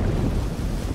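A boat in Dave the Diver moves steadily through water, giving a continuous dense wash of engine rumble and rushing water, loud and close, with no voices.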